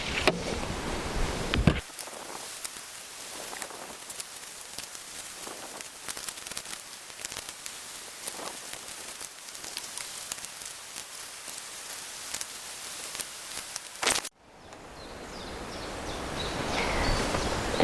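Someone repacks a hiking backpack for a seven-day coast-to-coast hike, making close, quiet rustling and crinkling with scattered soft clicks and handling noises, with a louder stretch of rustle near the end.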